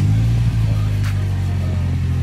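A Polaris Slingshot's engine hums steadily at low, even pitch while driving, with a constant rumbling drone and no speech.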